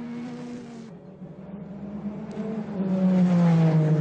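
Race cars at night during the 1998 Le Mans 24 Hours roar back onto the track, one engine note fading, then another rising and growing louder toward the end, alone without voices.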